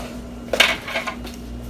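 A metal cookie sheet loaded with cookies slides into an oven, a short clatter and scrape of metal on the rack followed by a couple of lighter knocks.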